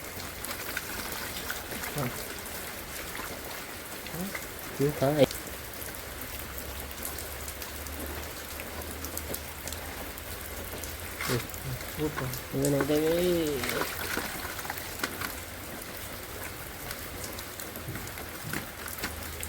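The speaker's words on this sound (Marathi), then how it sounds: "चिकन धुतो आहे आता" Water runs steadily at low level while raw chicken is washed, with light splashing under intermittent nearby talk.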